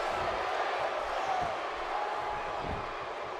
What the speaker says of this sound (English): listen to this crowd. Still electric.